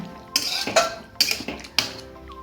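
Meat simmering in a pot is stirred with a metal spoon, four sharp clanks against the pot spaced across a couple of seconds, each ringing briefly over quiet background.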